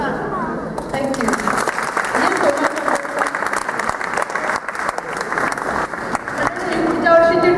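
A large audience claps loudly at a Marathi stage event, honouring the whole team, with a steady roar of applause and some cheering throughout and a speaking voice over the clapping.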